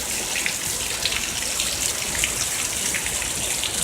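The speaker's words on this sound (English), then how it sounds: "It's raining big time." Heavy rain in a thunderstorm, a dense, continuous hiss of drops pouring down and splattering on surfaces, loud and even throughout with no voices.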